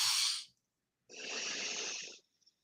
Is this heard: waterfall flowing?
no